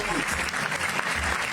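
An audience at a math tournament gives a brief burst of steady, dense clapping to welcome a speaker, with the noise of the crowd around it.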